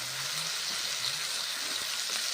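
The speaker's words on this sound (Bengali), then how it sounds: "ভেজে নিচ্ছি নেড়ে চেড়ে ভালো করে ভেজে নেব পেঁয়াজ আর মশলা ভেজে নিচ্ছি" Onion and ground spices fry in a pan while being stirred, a soft, faint sizzle with a light watery hiss running evenly throughout, no voice over it.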